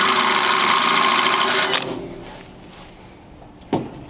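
A power drill whirs steadily for about a second and a half while opening up a hole for a threaded rivet nut insert on a taillight housing, then spins down, followed by a faint click.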